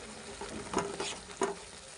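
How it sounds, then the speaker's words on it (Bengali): Chicken rezala masala with salt sautéing in a pan: a soft, steady sizzle with two brief scraping stir strokes, close by but fairly quiet. "এটা দিয়ে খুব ভালো করে কষিয়ে নেব"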